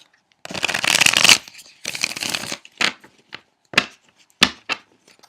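Tarot cards are riffled and shuffled in several bursts, two long crisp riffles followed by shorter snaps and taps, close up and fairly loud.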